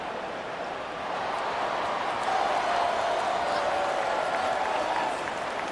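Stadium crowd at a college football game between Wake Forest and Georgia Tech, a steady loud roar of massed voices and cheering that swells slightly midway and holds throughout, with no clear talk over it.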